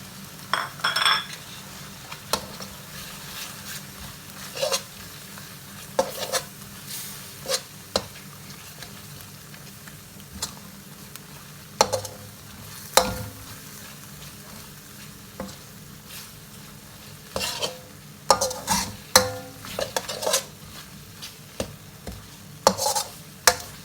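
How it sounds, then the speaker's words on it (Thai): Pork belly stir-fried in a pan for a Thai fish curry: steady sizzling oil with repeated scraping stirs and sharp metallic clinks of a utensil against the pan, close and clear, with no talking. "ผัดไปจนหมูก็สุกนะครับ"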